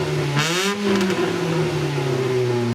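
A Ford Mondeo track car with its rear exhaust back box removed starts up. A short cranking burst catches into a loud, steady, raspy idle that rumbles close by until it cuts off abruptly.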